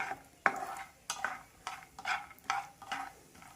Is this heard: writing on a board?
no